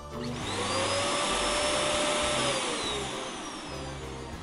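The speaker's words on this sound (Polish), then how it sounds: "Odkurzacz." A vacuum cleaner runs steadily and loudly for several seconds, its motor whine rising in pitch and then easing off, while light music plays underneath.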